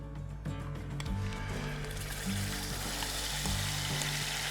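Yogurt mixture poured into hot oil with dry red chilies for a Jaipur gatta curry, giving a steady close sizzle and frying crackle throughout, with no talking.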